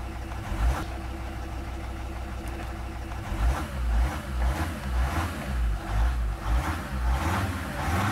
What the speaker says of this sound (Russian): Когда повернули ключ зажигания, машина завелась.